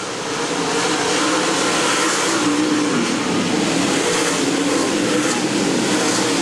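USMTS race cars roar around Valley Speedway, a loud, sustained blend of several engines at full throttle close by, with pitch shifting slightly as cars charge into the turn and no break in the noise.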